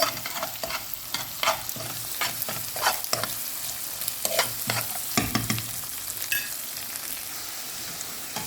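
Snake gourd and egg frying in a pan while being stirred, giving a steady crackling sizzle broken by repeated scraping and clattering strokes of the spatula, close and fairly loud with no talking.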